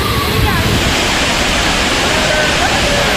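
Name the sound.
waterfall at Hogenakkal falls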